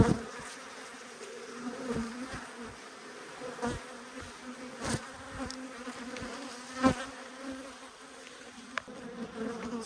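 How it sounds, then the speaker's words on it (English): Honey bees from a strong hive buzz in a steady, close drone, with individual bees zipping past in louder passes over the constant hum. "So these guys look really, really good. Really strong hive."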